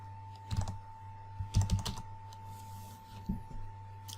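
Bursts of computer keyboard typing as a reply message is entered, three clusters of quick close clicks separated by pauses over a steady electrical hum.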